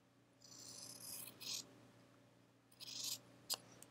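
Scissors trim excess binding fabric from a hedgehog wall-hanging quilt. Two quiet, close snipping passes of crisp cutting are followed by a few sharp small clicks, with a faint steady hum behind and no talking.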